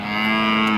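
A cow moos at a busy rural cattle market in Sirajganj, one sustained, steady, loud bellow heard up close and alone.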